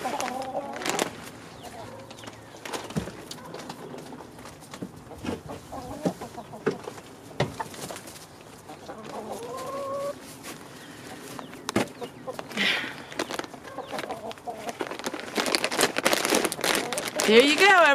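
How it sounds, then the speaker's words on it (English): Backyard chickens cluck and squawk excitedly over a treat mixed into their feed, a busy flock close by with rustling and crinkling, and a person talks now and then. "these chickens are just going crazy"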